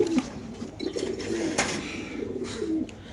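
Black racer pigeons coo in low, repeated murmuring calls close by. The calls sit over steady background noise, with soft rustling and a few faint higher sounds.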